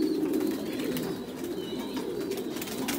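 Two young hen pigeons on a Vietnamese pigeon farm, cooing in low, throaty rolling phrases repeated steadily at close range with some faint higher chirps in the background, no voices.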